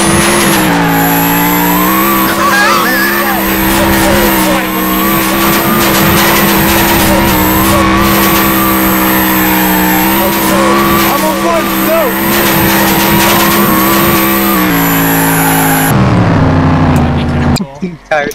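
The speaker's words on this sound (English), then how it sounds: "How do you like my burnouts? Four wheel drive burnouts." Four-wheel-drive car burnouts in a video game: a loud, sustained engine roar with squealing tires that holds steady throughout before cutting off near the end, with talking over it.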